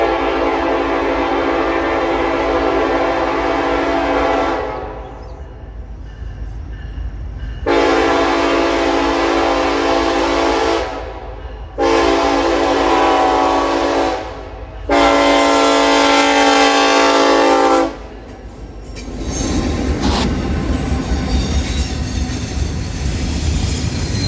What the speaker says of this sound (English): NS 286 would roll under the signal bridge in Bridgeport, Alabama with NS 1251